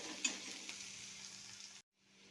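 Onion and capsicum sauté in a hot pan for paneer chilli, giving a steady close sizzle with faint stirring clicks that cuts off near the end.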